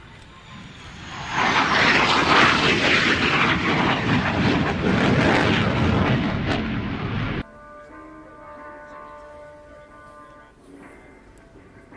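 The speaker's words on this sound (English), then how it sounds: "having quite a lot of very loud, noisy aircraft on tonight's show" At an air show, an aircraft makes a dedication pass, roaring in loud and broadband over a few seconds, then cutting off abruptly to a quieter background with a faint lingering engine hum.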